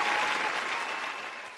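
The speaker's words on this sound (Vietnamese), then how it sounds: "Một tràng vỗ tay nữa" Dense audience applause for a child singer performing bolero on a televised talent show, loud at first and gradually fading, with no voices over it.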